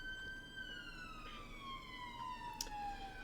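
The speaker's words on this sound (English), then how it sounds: "Apologies if you can hear the siren outside." Emergency siren outdoors, a faint, steady wailing tone drifting slowly downward in pitch, distant and continuous with no talking over it.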